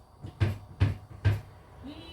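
A child bangs kitchen drawers open and shut, three hollow wooden knocks at a steady pace, close by, followed by a brief faint sound.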